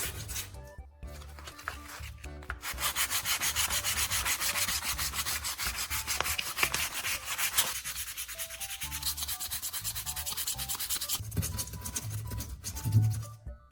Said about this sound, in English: Sand the entire surface again using light pressure.